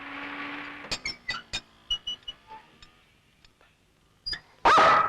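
A dog barks in a quick burst of about eight sharp, close barks, then goes quiet before a loud burst of noise at the very end.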